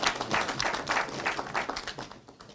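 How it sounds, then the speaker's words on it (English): Audience applause at a business event on cocoa farmer payments, a steady wash of many hands clapping at moderate distance, sustained evenly before tapering slightly at the end. "I'm waiting for the applause"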